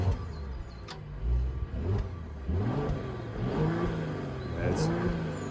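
A 2022 Brabus S500 B50 S-Class engine, heard from outside the car, revs up several times in rising and falling sweeps over a steady low idle rumble, at moderate loudness.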